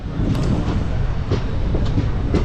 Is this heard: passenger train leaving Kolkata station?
yes